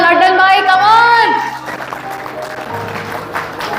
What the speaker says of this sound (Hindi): A big round of applause for Laddan bhai, come on।